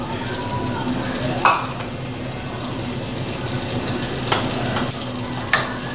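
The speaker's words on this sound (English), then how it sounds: "incorporate that cheese in there" Grated cheese is stirred into a thick roux of milk in a pot, giving a constant low bubbling sizzle with occasional scraping knocks of the spoon, close and with no speech.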